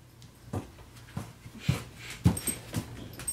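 A dog grumbling and whimpering, with soft snorts and breathy whines coming in irregular bursts at close range in a quiet room, with no talking.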